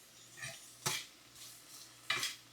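Onions being stirred and sautéed in a pan for pasta make a quiet kitchen scene with a few scraping utensil strokes against the pan over a faint background hum.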